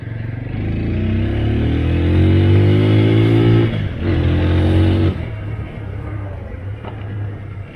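TVS Apache RTR 200 motorcycle accelerating hard in sport mode, its engine note climbing loud and close, then easing off briefly and pulling again before dropping to a lower running rumble.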